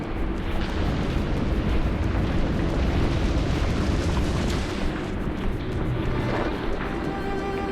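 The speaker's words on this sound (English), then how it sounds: "Those flare-ups will cook you alive." Roaring fire flare-ups in the Dungeon Siege 3 video game fill a dwarven mine area, a dense continuous rumbling blast with booming low bursts, loud and sustained without speech.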